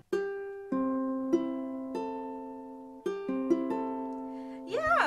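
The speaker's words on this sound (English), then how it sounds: "If you have tuned your ukulele, it should sound something like this." Tuned ukulele strings ring out one after another, each pluck a clear bright note that sustains and overlaps the last, ending in a brief quick strum; the sound is close and moderately loud.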